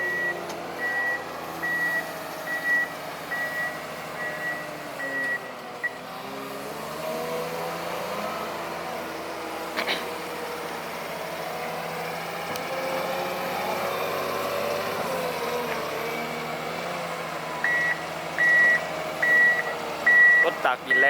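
A loader scoops sand at a concrete plant, its diesel engine droning steadily while reversing beeps pulse in short evenly spaced bursts near the start and again near the end.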